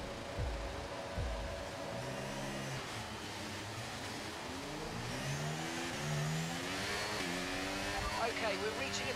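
McLaren Formula 1 car engine in the F1 23 racing game at the Canadian Grand Prix, revving up and down through gear shifts at moderate, steady loudness.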